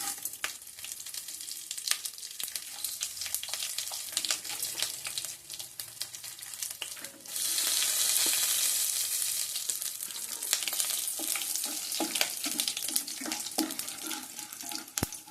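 Chana dal, mustard seeds and cumin crackling in hot oil as a tempering for semiya upma, an uneven sputtering hiss with scattered pops that swells louder midway, alongside some clinks and water-like rushing.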